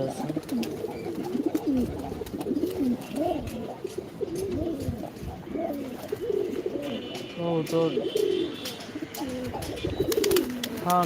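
A pet pigeon coos repeatedly up close in soft, rolling, throaty calls, with voices faintly in the background.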